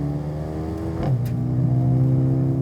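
A 2021 Mercedes-AMG A35 upshifts on a street with a quick exhaust crack at the gear change. The engine note drops and settles into a steady, moderately loud drone.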